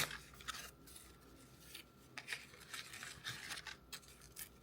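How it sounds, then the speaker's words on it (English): Apple Watch Ultra 2 packaging is torn and ripped open by hand, a quiet run of scratchy, rasping tears and rustles close by, with no talking. "all their packaging this year, you like have to rip it"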